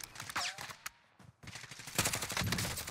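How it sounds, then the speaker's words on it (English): Bursts of automatic rifle fire in Call of Duty Warzone, loud close shots in several clusters separated by short pauses, with a denser volley toward the end. "He's shooting at me."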